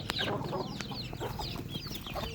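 A Bhimavaram cross hen clucks in quick, close, repeated calls over a steady low background hum.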